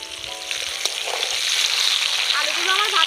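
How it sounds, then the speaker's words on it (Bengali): Potato pieces frying in hot oil in a village-style kitchen, a steady close sizzle that builds slightly louder with faint stirring clinks over about three seconds, no talking. "আলুটা একটু লাল লাল করে ভেজে নেব।"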